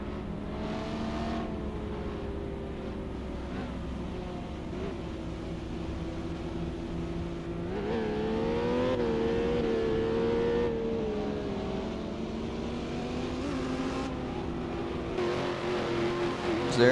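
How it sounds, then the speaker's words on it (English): A race car engine in a racing video game holds a steady drone, then climbs in pitch toward first gear redline before easing off, continuous and moderately loud without talk. "It's going to be a first gear red line."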